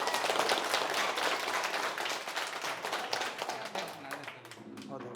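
An audience applauding teachers at a school gathering with an MLA, a dense burst of many hands clapping at once that slowly thins out over a few seconds, with voices mixed in underneath.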